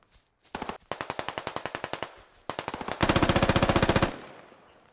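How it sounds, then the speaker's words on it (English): Machine gun fire in a military video game, set on the Gorodok map: several rapid bursts of evenly spaced shots with short gaps between them, ending in a long, loud, dense burst before cutting off. "A lot of bullets, didn't hit anything."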